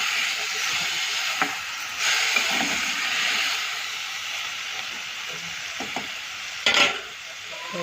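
Onions and potatoes frying in a pan for a sev shaak while a spoon stirs them, giving a steady sizzle with occasional scraping and a sharper clatter near the end.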